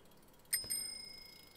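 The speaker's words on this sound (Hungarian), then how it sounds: "A lány biciklizik, csenget a bicikliével megjön" A bicycle bell rings with a bright double ding in a quiet setting, the second ring trailing off in a short metallic decay.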